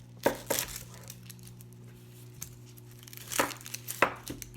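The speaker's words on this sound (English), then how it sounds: "Then I'm going to cut about half of this onion." A knife cuts through half of a softball-sized onion on a board, giving a few crisp chopping and tearing crunches in scattered bursts, close and fairly quiet, over a steady low hum.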